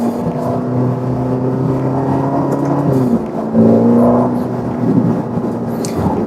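A Ferrari Roma accelerating hard in third gear, its engine note climbing steadily and loud, with a brief shift-like dip midway before the rising roar resumes.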